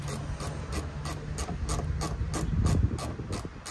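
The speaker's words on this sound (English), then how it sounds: "So now I just really need to tighten these two bolts up and put the tailgate assist back on." A ratchet clicks in a quick, even rhythm as bolts are tightened on the tailgate of a Ford F150, close and clear over a low background hum.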